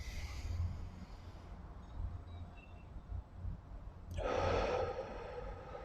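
A deep inhale taken during a breathing exercise, a slow, breathy rush of air that swells near the end, close and fairly loud, with faint low room noise and no talking.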